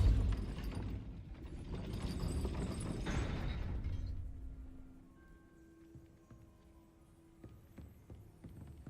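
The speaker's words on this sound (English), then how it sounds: "That looks as if it might raise the gate." Gate-raising mechanism in Hogwarts Legacy: a loud, clattering, grinding mechanical rumble with ratchet-like knocks runs for about four seconds, then fades into quieter ringing tones and faint clicks.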